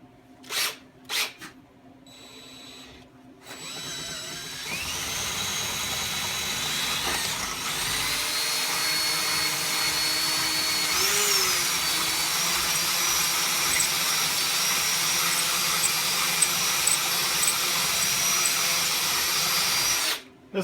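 A power drill with a step bit enlarges and elongates bolt holes in a part while restoring a 1946 Maytag 72D engine, giving a steady loud whine that runs continuously for about fifteen seconds after a few short bursts.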